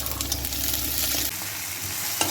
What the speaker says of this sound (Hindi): प्याज को लाल होने तक भूनेंगे इसमें, और ये मैंने थोड़ा सा करी पत्ता भी डाल दिया